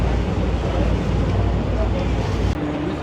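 A cold breeze blows across the Toronto harbourfront, a steady windy rush buffeting the microphone with low rumbling, water and boat noise underneath throughout.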